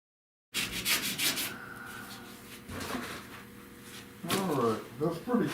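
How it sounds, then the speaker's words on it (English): Sanding on a car body during rust repair and windshield-area prep, a close, steady abrasive rubbing in repeated strokes with a few louder bursts near the end; someone talks now and then. "now I gotta come in and sand this up again"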